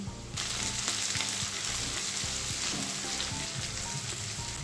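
Soya chunks with spring onion stir-fry in a pan for restaurant-style soya chilli, a loud, continuous sizzle that starts abruptly. Faint scraping stir strokes run beneath it, close up, with no talk.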